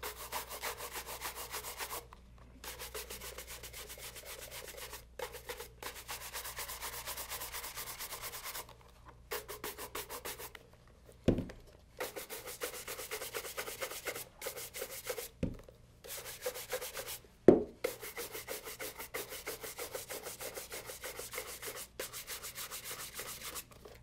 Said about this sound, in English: I'm going to buff it off using our Wellington pig bristle brush